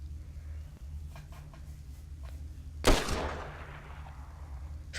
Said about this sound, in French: lui aussi, il tire au bourlingueur.